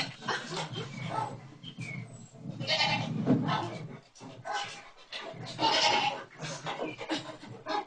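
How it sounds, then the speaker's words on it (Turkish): Two goats bleating loudly and repeatedly while trying to climb somewhere, close and insistent calls with breathy panting between them. "Keçinin videosunu göstermek istiyorum Adnan Bey."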